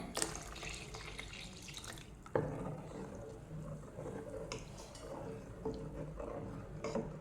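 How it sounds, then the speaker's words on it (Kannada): Water pours and splashes into a container, steady and close, with a sharp clunk partway through and a faint gurgle as it continues. "ಈಗ ನೀರು ಹಾಕ್ತಿದ್ದೇನೆ"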